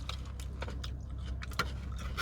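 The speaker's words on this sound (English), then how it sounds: "Time to chew." Close, wet chewing of a steak fajita burrito with veggies, a series of soft, irregular squishy bites and mouth sounds, quiet and without speech.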